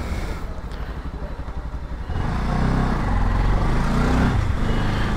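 A Royal Enfield Himalayan motorcycle pulls away, its engine idling unevenly before swelling into a louder, sustained roar as it rides off close by.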